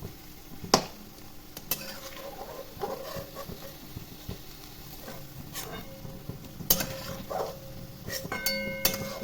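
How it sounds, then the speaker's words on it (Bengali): Paneer cubes finish frying in hot oil with a steady sizzle while a spatula scrapes and clinks against the pan as the pieces are lifted out. "ভাজা হয়ে গেছে, আর বেশি আমি পনিরটা ভাজবো না।"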